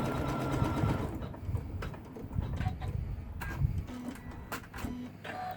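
An embroidery machine stitches an in-the-hoop design for a mermaid-tail zippered pouch, making a rapid, steady mechanical needle clatter up close. The rhythm varies slightly as the hoop shifts, with no voices over it.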